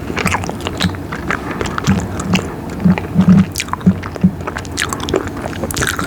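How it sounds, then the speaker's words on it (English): Gum chewing right at the mic, with wet squishy smacks and soft bites in an irregular rhythm over a low rumbling background, loud and close. "Sorry, I'm trying to chew."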